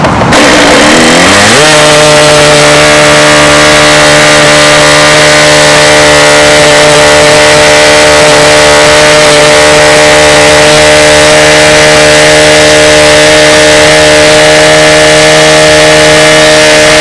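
Jett 60 model airplane engine fitted with a high-pitch Brian prop, spooling up quickly then holding a loud, steady, buzzing high-revving whine very close up for the rest of the run, no talk.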